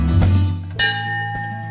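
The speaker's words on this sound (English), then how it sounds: "The preserved Honey Street clock chimes in the start of the first public steaming weekend." The preserved Honey Street clock at Crofton Beam Engines sounds a single clear chime that rings on with a sustained tone above a low background rumble.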